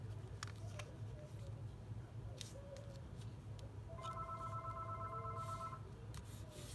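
A telephone rings with a steady electronic tone for a couple of seconds in a room with low background hum and scattered small handling noises.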